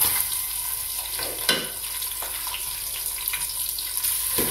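Onions fry in hot oil with spices in a pan for Sindhi biryani, giving a steady, close hiss and crackle with occasional stirring scrapes and no talking.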